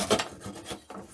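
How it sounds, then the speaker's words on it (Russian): A hand saw cuts off a protruding wooden dowel, a close rasping stroke back and forth across the wood in a workshop, alone without talk. "Возьмем пилу и просто"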